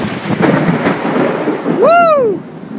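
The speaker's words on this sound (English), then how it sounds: "Big storm coming down." Loud, close rumble of thunder from a big storm, rolling steadily for nearly three seconds amid rain noise, with a sweeping tonal swoop near the end.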